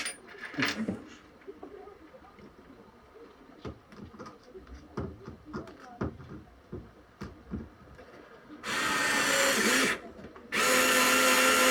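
A small Parkside PAS D5 cordless screwdriver drives screws in two loud, sustained whirring bursts near the end, after a stretch of handling clatter and small knocks, heard close up.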